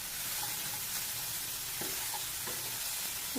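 Chilli, peas and grated carrot sizzle steadily in a hot pan for momo filling, with a few soft scrapes of stirring breaking through the continuous close frying hiss; no one speaks.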